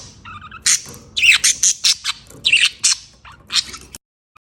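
A budgie screams loud and close, a burst of harsh, rasping squawks and sharp chirps coming in quick irregular pulses, then stopping abruptly into silence.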